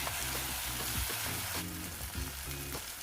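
A spiced mustard fish curry with katla carp, poppy seed and kasundi is stirred in a pan, with a steady close sizzle and repeated scraping strokes of the spoon.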